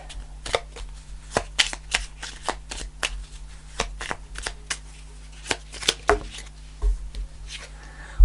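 Starseed oracle cards being shuffled by hand, a quick run of crisp riffling flicks and soft taps in an uneven rhythm, close and clear with a low steady hum beneath.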